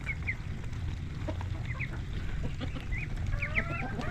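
Chickens cluck and chirp in short bursts over a steady low rumble of background noise, with several birds calling at moderate distance.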